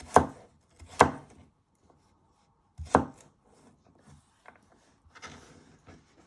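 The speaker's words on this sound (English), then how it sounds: "And you just want to finely slice them into little pieces" A knife finely slices vegetables on a cutting board while Indian starters are prepared, giving a few sharp, close chopping knocks spaced irregularly with softer taps between them.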